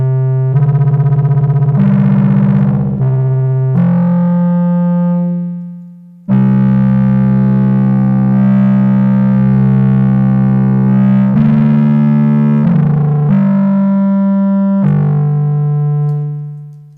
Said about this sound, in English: Perhaps a little bit of overdrive or distortion, maybe I do some overdrive.